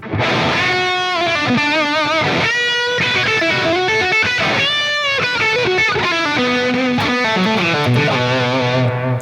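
An electric guitar runs through an All Pedal Jeff Loomis Devil's Triad distortion pedal, played as loud, heavily distorted sustained notes and chords, close and alone with no talk.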